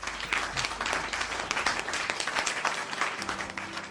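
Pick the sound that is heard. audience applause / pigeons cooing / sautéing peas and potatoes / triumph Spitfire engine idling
audience applause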